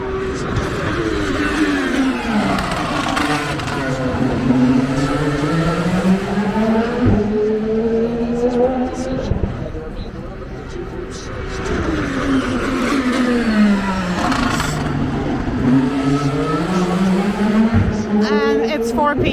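IndyCar race cars rev and sweep along pit lane during Friday practice at the Honda Indy Toronto, their engine notes rising and falling in long continuous waves, loud and fairly close, with occasional tire noise mixed in.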